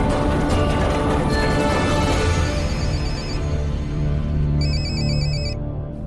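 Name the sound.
phone ringing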